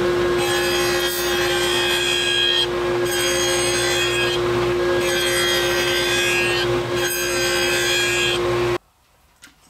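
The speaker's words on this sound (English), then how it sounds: "run this frame through for one pass for each corner to cut the kerfs" Wooden picture frame pushed through a spline jig on a saw to cut corner kerfs, a loud steady whirring cut with slight rising and falling passes, ending abruptly into near silence; no speech.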